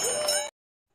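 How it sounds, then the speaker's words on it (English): A single bright bell ring, a short metallic ding with ringing overtones that stops abruptly after half a second, followed by silence. "Ring the bell."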